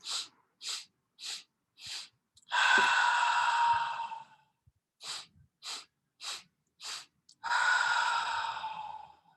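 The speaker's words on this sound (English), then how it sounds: "4 inhales through the nose and 1 ocean breath out through the mouth" Four short sniffing inhales followed by a long, audible breathy exhale, then the pattern repeats; close and clear with no talking.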